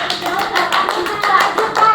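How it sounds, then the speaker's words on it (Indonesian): Schoolchildren in a classroom clap for group 2 during a lesson demonstration, producing a brisk, fairly even run of close handclaps that continues steadily for a couple of seconds. "Tepuk tangan dulu untuk kelompok 2"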